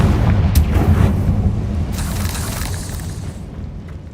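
Confringo explosion spell in the video game Hogwarts Legacy: a heavy, rumbling blast with deep low-end roar, a sharp crack early on and a second burst with crackling debris that fades over several seconds.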